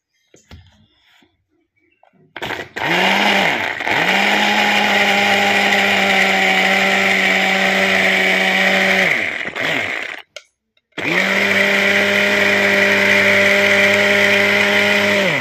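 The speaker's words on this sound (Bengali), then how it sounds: "এই অবস্থাতেই আমি পেঁয়াজ আর টমেটোটা পেস্ট করে নেব।" A kitchen mixer grinder blends onion and tomato into a paste, a loud steady motor whine with a rising start, running about seven seconds, stopping briefly, then starting again and running to the end.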